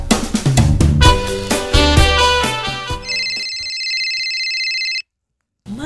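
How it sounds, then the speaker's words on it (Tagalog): A cellphone on a table rings with a melodic ringtone of rapid tonal notes, then sustained electronic chimes, loud and close, before cutting to silence and then more sound. "itay pay lang agun unay ti cellphone mo di tarabaw ti lamisaan"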